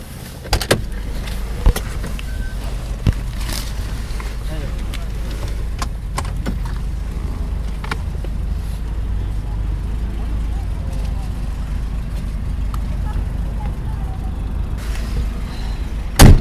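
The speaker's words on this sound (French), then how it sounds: "Arnaud au volant d'une R16 de 1978" A 1978 Renault 16 TX driving along, a steady low engine and road drone heard from inside the cabin with occasional clicks and knocks, a voice speaking over it.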